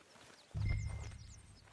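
A horse in Red Dead Redemption 2 gives a single close, low thud of a hoof or step, fading quickly, with no talk.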